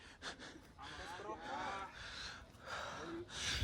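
A person on a steep mountain trail at Gunung Putri, Lembang, pants and gasps for breath during the climb, with ragged, repeated breaths over outdoor background noise.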